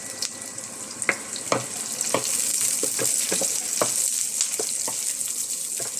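Vegetables for ginataang gulay sauté in a hot pan with a steady, bright sizzle. Frequent clicks and taps from stirring run through the six seconds, and no one speaks.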